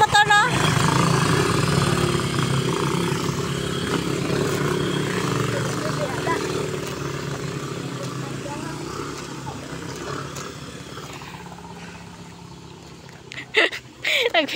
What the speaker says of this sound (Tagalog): Ay, may motor na.